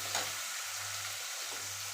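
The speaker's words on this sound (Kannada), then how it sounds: "ಈ ಥರ ಇದನ್ನು ಫ್ರೈ ಮಾಡಬೇಕು." Chicken sukka frying in a pan, giving a steady, even sizzle that holds close and constant throughout with no talking over it.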